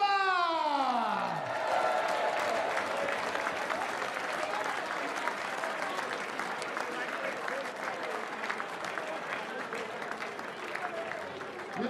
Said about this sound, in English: a massive round of applause for our finalist as he leaves the stage